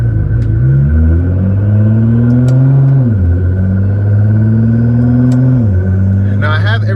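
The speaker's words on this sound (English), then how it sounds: "very capable as well with this twin turbo V6. Love the sound, love the tune." A 2012 Nissan GT-R Premium with a twin turbo V6 tuned to 1300 HP revs in a deep, steady drone, pitch climbing and dropping twice as the engine is blipped, loud and close from inside the cabin.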